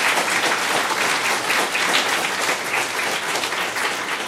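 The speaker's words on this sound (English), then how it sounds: "give a round of applause to Julie" Dense, steady applause from an audience at a community celebration marking the 20th anniversary of the Olmstead decision, sustained and even throughout with no voices standing out.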